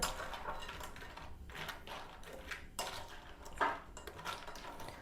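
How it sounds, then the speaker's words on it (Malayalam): Quiet scraping and clinking of a spoon mixing masala through food in a pan, in irregular bursts with short pauses. "ഇത് നന്നായിട്ട് ഞാൻ മിക്സ് ചെയ്ത് കൊണ്ടെടുക്കുകയാണ്"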